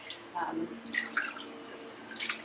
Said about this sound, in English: I give it a quick rinse first